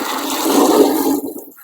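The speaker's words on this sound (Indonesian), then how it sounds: "Jadi kita siramnya langsung siram ngocor" Water is poured straight onto an Aglaonema plant, a steady close gush that runs about a second and a half and then trails off.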